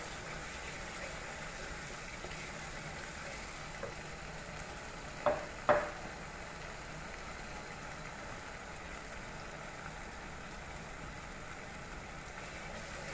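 Onion, garlic and ginger paste fries with cauliflower curry in a pan, a low steady sizzle running throughout, broken by a couple of sharp stirring knocks near the middle, with no voices.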